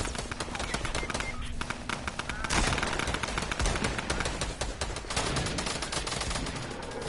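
Fortnite gunfire crackles in fast automatic runs and scattered shots, fairly close but quiet overall, with a player talking over parts of it.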